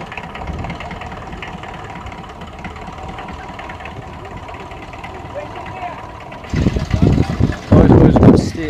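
A vintage tractor engine runs at a tractor show, a steady low rumbling idle under ongoing chatter, followed by louder bursts of noise near the end.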